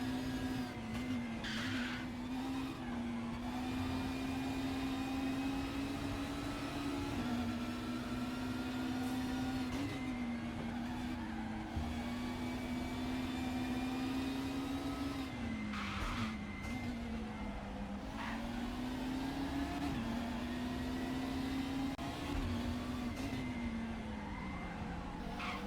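Race car engine in the Drivin Super Touring sim game at Zandvoort, a steady loud harmonic whine holding pitch throughout with slight dips and rises as the car changes speed, plus occasional tire skids.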